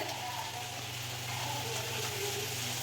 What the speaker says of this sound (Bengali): দেখো এবার কচুরিগুলো ভাজার জন্য দিয়ে দেওয়া হয়েছে